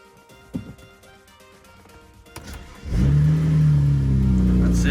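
A BMW 335i engine is cranked and fires up after sitting with its battery out, catching at once into a loud, steady rev that holds near the microphone, preceded by quiet clicks and shuffling.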